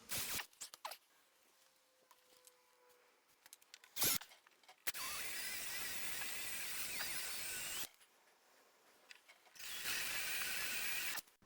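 A power drill bores through spot welds in the outer skin of a BMW frame section. It runs in two long loud bursts, with short mechanical clicks and handling noise before them and quiet gaps between.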